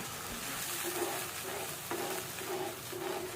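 Spices fry for a raw mango pickle, with a soft, steady sizzle and bubbling as water is added to the masala, faint and close with no talk.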